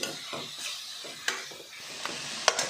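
Fried rice sizzles in a hot pan with pepper powder, a soft hiss broken by scraping stirs and a few sharp clinks of the spatula.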